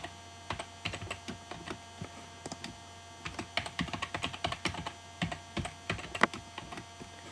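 Irregular bursts of close keystrokes on a computer keyboard as a store database name is typed in, with short pauses between runs and a faint mains hum underneath.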